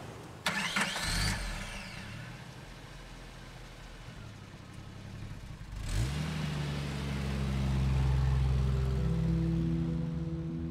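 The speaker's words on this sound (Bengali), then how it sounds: "একটা পাক মেরে মিৎসুবিশি বেলাভূমি ছেড়ে বিচ রোডে উঠে পড়ল।" A Mitsubishi car engine cranks and catches, then runs and is revved as the car pulls away from a beach onto a road. The engine sound is loud and close, with no voices.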